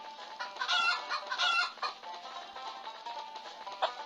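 Cartoonish chicken clucking from the Stickman Party mobile game, a busy run of repeated clucks and squawks at steady volume with no talk over it.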